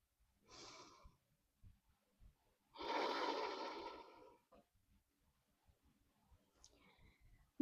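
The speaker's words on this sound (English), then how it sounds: "Breathe." A person lying on their back during a gentle core workout breathes audibly: a short exhale, then a longer, louder breath out, with faint clicks and small movement sounds in a quiet room.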